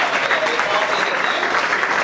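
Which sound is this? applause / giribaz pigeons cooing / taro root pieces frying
applause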